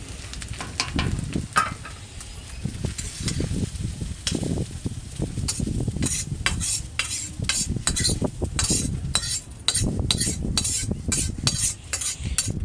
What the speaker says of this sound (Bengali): এবার এটা আমি নামিয়ে নেব। আর এই ভাতগুলোর সঙ্গে মিশিয়ে দেব।